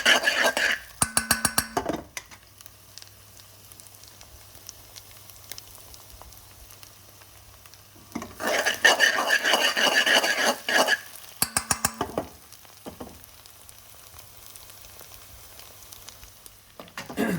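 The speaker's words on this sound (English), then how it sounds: "So I'm going to bhuna the paneer and the spinach for a good few minutes." Paneer and spinach bhuna in a pan: bursts of vigorous stirring and scraping with sizzling frying, separated by quieter stretches of low steady hiss.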